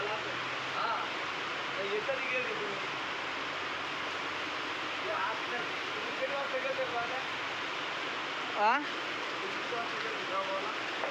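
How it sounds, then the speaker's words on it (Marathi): Heavy rain hisses steadily at a distance in a village, a continuous wash of falling water with faint voices murmuring underneath. "काय पाऊस झालाय चालू आता"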